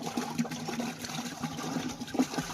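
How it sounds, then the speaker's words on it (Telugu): Water is poured into a can to make homemade ice cream, a short splashing trickle close by with uneven gurgles. "ఈ విధంగా అరకాను వాటర్ పోసుకోవాలా."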